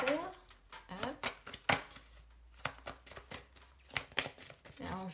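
Tarot cards shuffled by hand, crisp riffling and slapping bursts mixed with someone talking over them.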